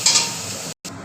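Egg curry with potatoes and vegetable stems sizzles steadily in a pan while being stirred, a close, continuous frying hiss broken by a brief silent gap near the end.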